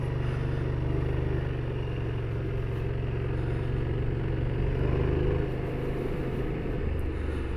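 A scooter engine drones steadily at close range while riding, with a constant rumbling hum and faint rattling, no voices.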